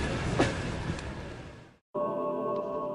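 Interior of a moving passenger train in Mongolia: steady rumbling rail noise with a brief screech, a sudden near-silent cut, then a humming, tonal carriage drone, no talking.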